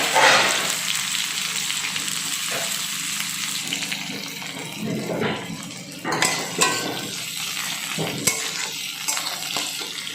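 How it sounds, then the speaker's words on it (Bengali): Chopped onions frying in oil with cardamom and cinnamon tempering: a continuous hiss of frying with occasional stirring scrapes and utensil knocks against the pan, close and moderately loud. "তেলের উপরে ফোড়নে দিয়ে দিলাম এবার দিয়ে দিলাম পেঁয়াজ কুচানো"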